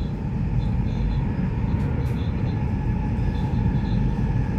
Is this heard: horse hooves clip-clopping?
no